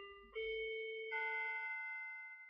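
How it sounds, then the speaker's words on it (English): A two-tone electronic doorbell chimes once, a clear ding followed by a lower dong that rings out and fades, heard alone in a quiet room. "There's my doorbell."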